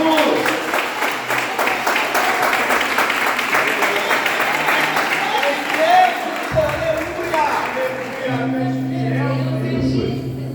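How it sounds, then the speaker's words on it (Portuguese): A church congregation in Cabo Frio, Rio de Janeiro claps for Jesus, a busy crowd of hand claps over a church gathering, with music tones and voices joining partway through. "Salve de palmas para Jesus!"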